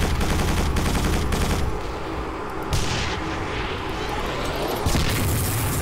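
Turret gunfire in the sci-fi shooter Quake 4, a dense, loud barrage of rapid heavy shots and booms that rolls on for several seconds with brief lulls, with no voices over it.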